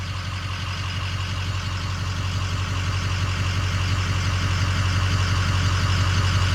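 A Ford 6.0 Powerstroke diesel truck engine with a cracked injector idles steadily up close, a loud, constant low rumble with a fine repetitive clatter and no voices over it.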